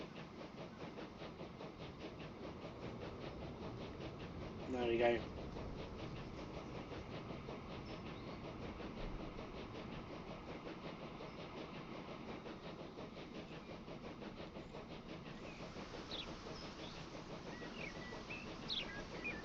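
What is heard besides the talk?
train gaining speed in video game Transport Fever 2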